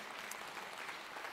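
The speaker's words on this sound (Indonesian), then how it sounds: "Beri tepuk tangan untuk seluruh pasangan calon terlebih dahulu yang berbahagia." Audience at the 2024 Banda Aceh mayoral and deputy mayoral candidate debate clapping for the candidates, a brief, even wash of applause heard fairly softly and at a distance.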